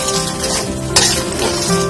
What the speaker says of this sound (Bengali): এখন আমি এটা ঘন ঘন নাড়তে থাকবো যেন তলা বেজে না যায়